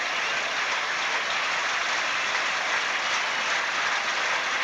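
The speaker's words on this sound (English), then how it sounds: "Tony Pickard leading the applause for Edberg." Steady, dense applause from a tennis crowd greeting Stefan Edberg after a point at six-all heading into a tie break, a continuous wash of clapping with no talk over it.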